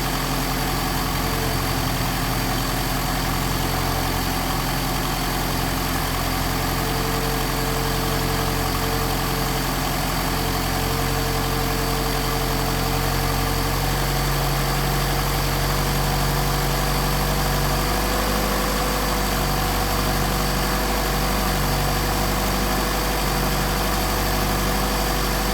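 A Mercedes 190SL engine fitted with Solex 44PHH carburetors runs at a steady, loud idle around 1500 RPM, a continuous rumbling hum with vibration and no voices throughout.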